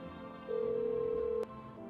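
In a video game, a telephone gives a steady single dial-style tone lasting about a second over a constant background hum, ending with a sharp click.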